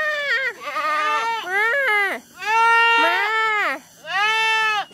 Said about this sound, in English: passing some very loud goats